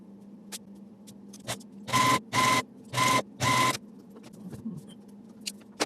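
A sewing machine stitches rows of a quilt together with a quarter-inch seam, running in four short, loud, even bursts with quiet pauses between them. Faint handling noises come before and after the bursts.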